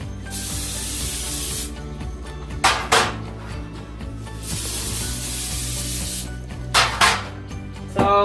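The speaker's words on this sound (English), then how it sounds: "we are gonna like cooking spray these guys" Cooking spray hisses from an aerosol can into a baking dish for enchiladas in several sustained bursts, each a steady close rush broken by short pauses and a few light clicks of the nozzle.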